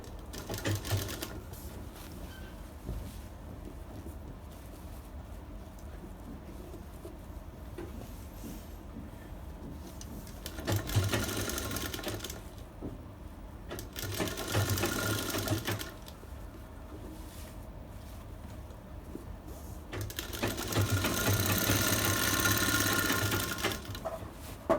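A sewing machine stitches a bridal sarara in bursts of steady mechanical whirring, with louder runs separated by quieter stretches of low hum.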